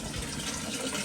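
Water pouring steadily into a hot-water tank during an immersion heater element change, a continuous close rushing fill with no pauses and no one talking.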